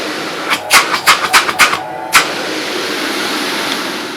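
A vintage 1974 Electrolux Automatic 330 vacuum cleaner starts after a few clunks and bumps, then runs with a steady, broad motor hiss that holds evenly near the microphone to the end.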